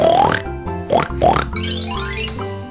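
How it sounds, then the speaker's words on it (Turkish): Three short, squealing oinks followed by a longer grunting snort, close and clear. "domuz"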